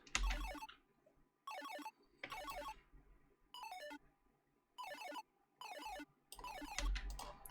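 A synth arpeggiator plays quick runs of bright notes rising and falling, grouped into short bursts separated by brief gaps.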